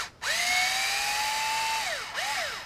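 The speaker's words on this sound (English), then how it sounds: "I don't mind using this screw gun to take things apart" Cordless screw gun spinning fasteners out of RC crawler parts, one long whining run rising in pitch then winding down, followed by a short second burst, close and alone.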